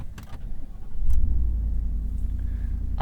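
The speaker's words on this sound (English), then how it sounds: "I want to know what this motor sounds like without any piped-in engine noise" A 2025 Ford F-150 Tremor with a 5.0 V8 driving, a steady low engine rumble heard from inside the cab that swells briefly after the first second and then holds at a constant level.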